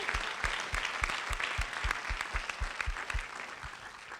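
A theater audience gives a sustained round of applause, full and steady throughout, with a faint voice underneath.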